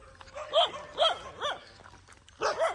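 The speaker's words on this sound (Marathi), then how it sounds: "कल्पेशचे कमांडो आमची कुत्रे लय भारी आहेत" Dogs at a farmhouse bark in four loud, close, sharp bursts spaced about half a second apart, with a brief pause before the last pair.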